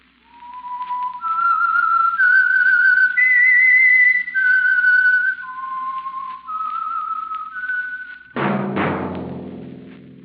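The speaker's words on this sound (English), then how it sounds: "That whistle is your signal for the Signal Oil Program" A single person whistles a slow, clear melody of sustained notes, ending with a sudden resonant chord-like sting, the theme of the old radio drama The Whistler.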